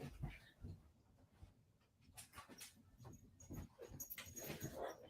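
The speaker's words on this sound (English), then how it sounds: "I enjoy puppy noises." A puppy whimpers, snuffles and pants softly in faint, irregular bursts, close but quiet.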